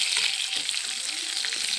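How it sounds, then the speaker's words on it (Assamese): Smoked dried fish sizzles and fries steadily in hot oil in a pan, with a continuous close hiss and crackle and occasional soft stirring. "ধুনীয়াকৈ ফ্ৰাই কৰি ল'ব লাগে।"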